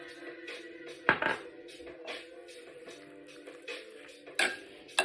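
Arugula salsa with cumin gets stirred in a bowl, a few sharp utensil clinks and scrapes scattered over a quiet, faintly humming room, with no talk.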